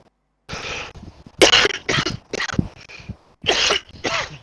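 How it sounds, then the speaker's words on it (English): A man coughs hard in a series of close, loud, harsh bursts, some doubled and clustered, with short pauses between fits and no speech. "Here he is with his foreign cough again."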